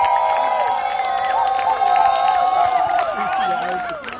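A crowd of mostly high-pitched young voices shouts and cheers continuously during a cheer-off in the stands at a professional soccer match, Atlanta SC versus Miami FC, loud and sustained with overlapping squeals throughout.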